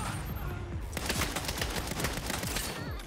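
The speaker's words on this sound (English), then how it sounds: "What did you shoot at me? What is happening? Oh, it's a grenade launcher." Rapid bursts of weapon fire, including grenade launcher shots, in the video game Saints Row (2022) on Xbox Series X, a dense run of loud, close pops and blasts repeating steadily throughout.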